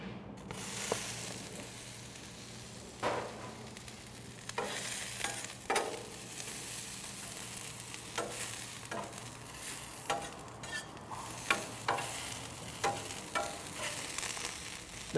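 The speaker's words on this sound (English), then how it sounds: "We've got some of this chili infused oil that's gonna add a lot of extra flavor to our griddled onions." Onions fry in chili-infused oil on a griddle, giving a soft, steady sizzle with scattered scraping and stirring clicks from a spatula.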